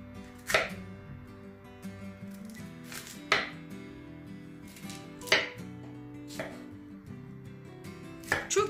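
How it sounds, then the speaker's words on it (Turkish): A knife chops roughly through medium cauliflower florets on a board, six or seven sharp separate cuts spaced about a second apart, close and clear against a quiet kitchen background. "Bunu öncelikle çiçeklerini ayıracağım. Gelişi güzel de doğrayacağım."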